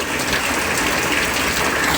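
Heavy monsoon rain with floodwater gushing, a dense, steady roar of pouring water filling the scene, close and loud with no talking.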